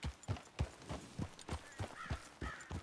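A white stallion trots in Red Dead Redemption 2, its hooves clip-clopping in an even, quick rhythm of about ten soft, fairly quiet beats, with nothing else competing.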